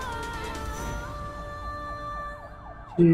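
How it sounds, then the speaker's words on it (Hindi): A wailing siren sweeps up and down in a repeating pattern, moderately loud and somewhat distant, before a brief louder sound breaks in at the end. "ये सायरन की आवाज"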